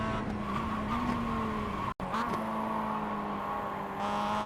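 A Mazda MX5 in the iRacing simulator braking hard and blipping the throttle while downshifting into first gear, a steady droning engine note that dips briefly and climbs again, close and continuous.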